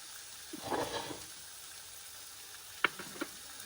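Chicken pieces sizzling as they fry in a pan of spiced oil for a chicken curry: a soft, brief burst of crackle near the start, then a quiet hiss with one sharp clink.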